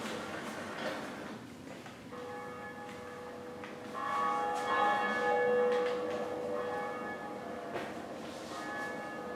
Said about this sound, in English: hold this lever, and let's ring the first bell